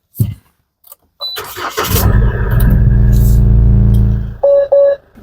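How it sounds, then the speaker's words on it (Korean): A four-wheel-drive SsangYong Rexton Sports Khan with about 40,000 km fires up after a few clicks and a brief crank, then settles into a steady, close diesel idle, with a pair of dashboard chimes near the end. "바로 시동 걸어볼게요."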